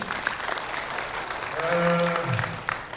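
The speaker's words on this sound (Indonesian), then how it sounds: "Kita berikan tepuk tangan sekali lagi" An audience at a national church seminar and retreat in Bali clapping together, a dense burst of applause under a brief tonal voice or music, rising then tapering off near the end.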